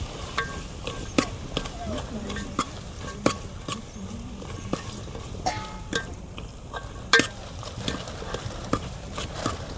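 A spoon stirs roasted eggplant oro mash in a pan, giving irregular sharp scraping taps against a soft sizzle, close and moderately loud with no talking.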